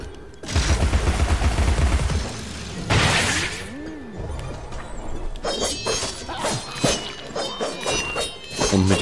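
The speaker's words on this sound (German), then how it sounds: "mit diesem explodierenden Häschen, was ich jetzt gerade geworfen habe" In the Alice: Madness Returns video game, a thrown exploding bunny weapon goes off amid loud game effects: a sharp burst and shattering crash, a rising whistle, then a flurry of rapid cracks and impacts.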